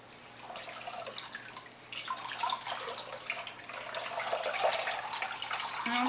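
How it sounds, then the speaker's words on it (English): Water runs and drips from a freshly washed synthetic wig, a continuous splashy trickle with scattered drips that grows slightly louder toward the end, with no voices. "drip a little bit, get some of that water out"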